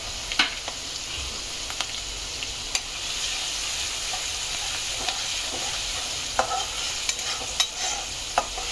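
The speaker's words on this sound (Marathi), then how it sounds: "मिरच्या मात्र तेलामध्ये ना व्यवस्थित फ्राय होऊ द्यायच्या" Chopped green chilies frying in hot oil with sesame seeds for patal poha chivda, a steady soft sizzle broken by sharp clicks and scrapes of a spoon stirring the pan, close and quiet with no speech.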